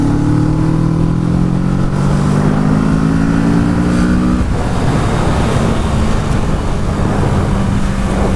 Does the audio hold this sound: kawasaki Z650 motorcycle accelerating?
yes